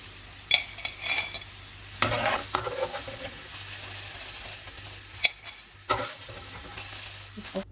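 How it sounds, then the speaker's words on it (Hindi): Potato fries deep-fry in hot oil until crispy. A continuous sizzling bubble runs throughout, broken by several loud clattering stirs and scrapes against the pan. There is no talking. "इनको हम फ्राई करेंगे जब तक ये क्रिस्पी नहीं हो जाते"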